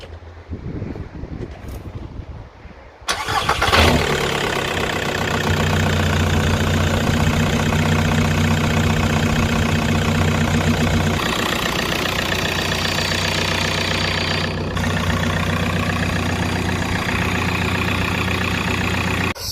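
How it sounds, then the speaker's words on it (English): A Seat Ibiza 1.9 TDI diesel, just fitted with a front-mount intercooler and hard pipe kit, cranks and fires after a quiet moment, then settles into a steady, loud, close idle with a continuous low rumble. "we'll just fire up the car before we actually put anything back together again, make sure it's running fine"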